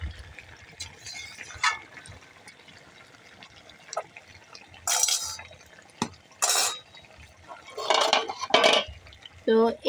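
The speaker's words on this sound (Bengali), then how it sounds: "তো ভালোভাবে এবার কষিয়ে নেব" Meat and fried onion are stirred and braised in a pot, with intermittent clattering scrapes of a utensil against metal over a low sizzle and occasional quiet voices.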